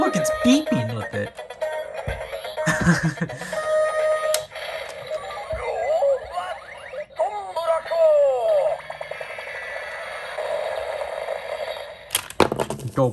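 A Go-Busters transformation toy device gives off a series of electronic beeps and chiming tones, with short bursts and pauses, while people talk near it.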